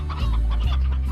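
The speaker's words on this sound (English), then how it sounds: "look, I got 2 roosters" Roosters clucking in the video game Slime Rancher, a brief run of loud, close clucks with low game ambience underneath.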